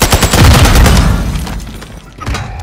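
Dense gunfire erupts in Call of Duty: Modern Warfare II, a loud, rapid fusillade of shots and booms that stays heavy through most of the burst, then eases slightly and flares up again.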